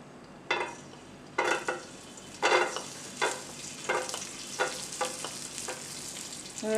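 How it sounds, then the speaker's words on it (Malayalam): Raisins fry in oil on a low flame after cashews, a soft continuous sizzle broken by a regular series of bright spoon scrapes and stirs against the pan, close and with no voices. "മുന്തിരി ഇട്ട് കൊടുത്ത് ഒന്ന് ജസ്റ്റ് വറുത്ത് കോരിയെടുക്കാം"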